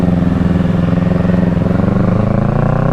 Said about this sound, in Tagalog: pag binitawan mo yung silinyador, bumabagsak yung RPM nya at nanginginig yung makina